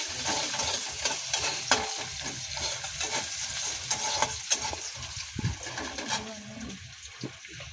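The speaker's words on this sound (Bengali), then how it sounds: "এটা হচ্ছে শিমের দানা বাটা রান্না হচ্ছে।" Mashed bean seed paste sizzles and fries in a pan while a spoon stirs and scrapes through it, close and continuous with irregular clinks and wet bubbling.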